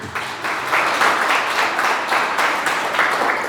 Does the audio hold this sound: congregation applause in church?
yes